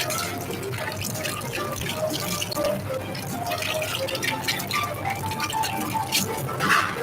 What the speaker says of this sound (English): Then you rinse your hands.